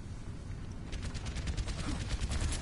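Faint, rapid bursts of automatic gunfire in a video game, a fast stuttering string of muffled shots, fairly distant and low in level.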